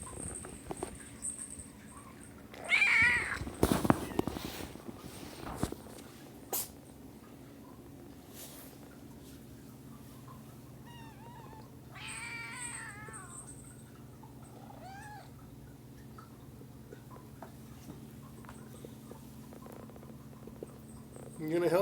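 Kittens meow in short, close cries scattered over a quiet indoor background, with a few soft purrs and handling noises in between.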